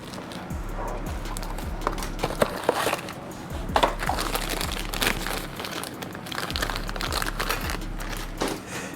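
A sticker on a garage-built Harley-Davidson Screamin' Eagle 122 cubic inch Stage III engine is peeled and crinkled up, making loud, close crackling and crumpling noises in irregular bursts, with no one talking.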